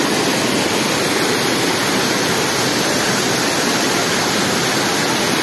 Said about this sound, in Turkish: Şu şelalenin altında ıslanmak ister miydin?